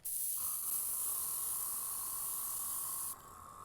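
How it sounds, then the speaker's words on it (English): A short test burst from an airbrush fitted with interchangeable caps, a steady bright hiss of spraying air holding for about three seconds, with a faint whistling tone under it, before cutting off abruptly. "I did a few tests with the two caps and played around with the adjustments to get a feel for the airbrush"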